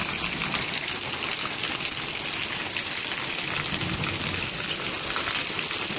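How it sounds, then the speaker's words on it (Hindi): Rainwater gushing through a leaking roof during heavy rain, a loud continuous rush of pouring, splashing water with no pauses. "अब ये बारिश इतनी सब हो रही है छत से आ रहा सारा पानी"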